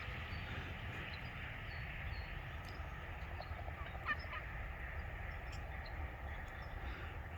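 Wild turkey flock with strutting toms, faint scattered calls rising over a constant low rumble of outdoor background noise, the birds sounding fairly distant.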